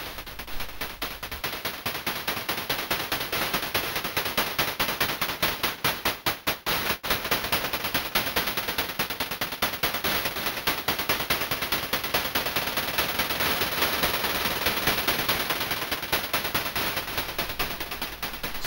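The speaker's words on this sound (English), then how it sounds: "we'll have the same percussion sounds and start mixing in some delay effects." Eurorack percussion runs through the digital delay of a Befaco Lich module, producing a dense, continuous rattle of rapid hits that smear into a steady, loud wash with no voices.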